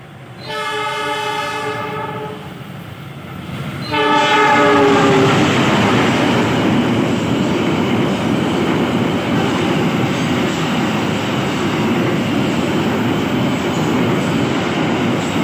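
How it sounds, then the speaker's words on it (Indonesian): An Arjuno Express train on the Malang to Surabaya Gubeng line sounds its horn twice in long tones, then roars past close by with loud, steady rumbling and wheel clatter that fills the rest of the passage. "ini sebentar lagi akan melintas kereta api Arjuno Express relasi Malang sampai dengan stasiun Surabaya Gubeng"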